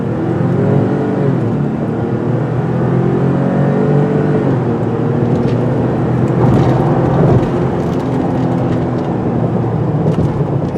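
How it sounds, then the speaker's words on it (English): A 2020 Ford Expedition Platinum with an EcoBoost engine accelerates, its engine note and road noise rising in a steady, loud, continuous drone heard from inside the cabin. "Acceleration is more than adequate, again considering the weight."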